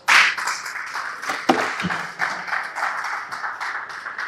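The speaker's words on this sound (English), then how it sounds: "I think it deserves a big round of applause" An audience applauds after a presentation on investment and property development, a burst of many hands clapping that starts sharply, then continues in an uneven, fairly close patter.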